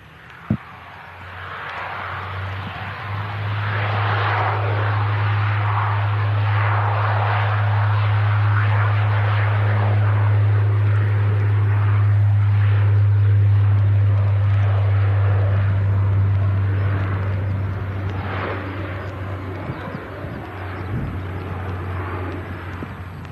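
Airplane engines rumbling during takeoff, a deep, loud drone that swells over several seconds and holds before fading, heard from the ground at an airport.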